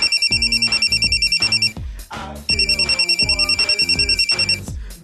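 Electronic alarm-style ringtone from a cell phone ringing in a school classroom, a loud repeating beeping pattern with a short pause midway, alongside a rhythmic musical backing of low thumps.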